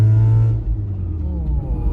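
A Mazda RX-8 rotary engine pulls in third gear around 3000 RPM, a loud, steady, close engine drone with a smooth rising tone under a voice at the start.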